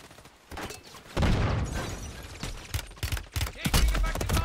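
Gunfire in the video game Call of Duty Warzone comes in rapid, loud bursts and scattered sharp shots, with heavy booming impacts and a few clattering hits across the stretch.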